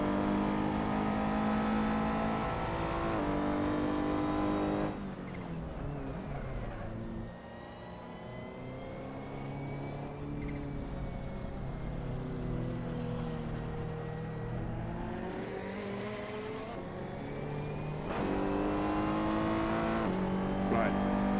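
AI race cars in a racing video game lapping Suzuka, engines droning and shifting pitch steadily throughout as they accelerate and brake, with a continuous loud whine close by.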